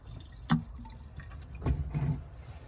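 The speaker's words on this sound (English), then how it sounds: "Just gonna trickle a little bit down the venturi of this carburetor." Pre-mixed two-stroke fuel trickles down the carburetor venturi of a 1948 GMC COE truck that has sat unused for years. A few faint, close drips and splashes are spread over a couple of seconds against a quiet background.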